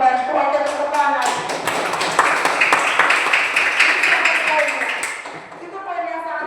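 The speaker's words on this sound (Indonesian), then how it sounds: "Oke, tepuk tangan." A classroom group claps hands together in a dense burst of applause that runs nearly the whole time, close and loud, with a few voices mixed in before the clapping fades.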